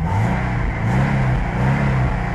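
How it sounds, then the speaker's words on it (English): A 1987 Porsche 944 engine revs steadily and close by, a continuous mid-pitched drone with gentle swells in pitch and no voices over it. "as you can see the engine revs well"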